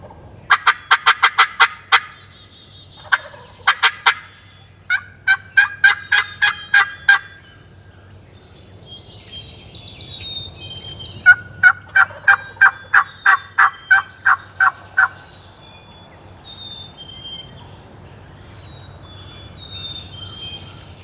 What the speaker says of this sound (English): we've got a couple birds gobbling off to the northeast, about 150, 200 yards